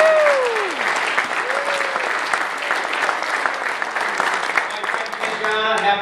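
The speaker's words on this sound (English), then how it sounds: "let's one more round of applause" Steady applause from a crowd fills the whole stretch, dense clapping with a voice briefly rising over it near the start.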